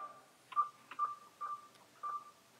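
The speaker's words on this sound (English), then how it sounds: "So when Dave presses this button, he's asked to enter the token that was delivered to his mobile phone by SMS, which he's doing so now." Keypad tones on a mobile phone while an SMS token is entered: four short, evenly spaced beeps at a moderate pace, clean and fairly quiet against near silence.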